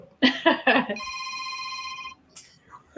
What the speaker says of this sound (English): Oh, somebody's phone ringing.